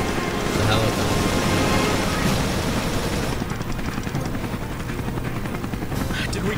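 A helicopter in the Resident Evil Revelations video game gives a loud, sustained rotor roar that turns into a rapid, choppy beating partway through and stays up front throughout.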